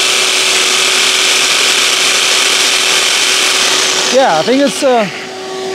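A shop vacuum drawing about 1800 watts runs from an EGRETECH Sonic 2200W portable power station, giving a loud, steady, close roar, with a voice speaking briefly over it near the end.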